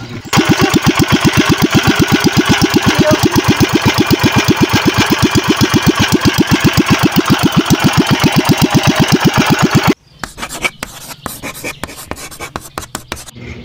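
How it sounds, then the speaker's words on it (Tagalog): A small 16 hp Tanabe engine runs loud and close with a rapid, steady chugging beat, then stops abruptly, leaving scattered clicks and knocks. "Ito nga pala ang aking makina na 16 HP"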